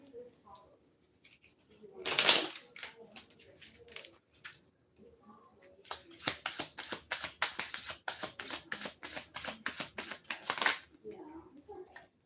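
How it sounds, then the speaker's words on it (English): Tarot cards are shuffled and flipped over in a rapid run of crisp riffling slaps and flicks, loud bursts and brief pauses, with a voice speaking in between. "So 3 cards flipped over."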